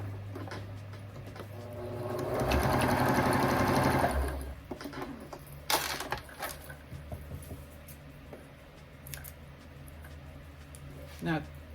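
An electric sewing machine runs a steady two-second burst of fast stitching along a drawstring backpack seam, close and clear, with quiet thumps and handling noise before and after it.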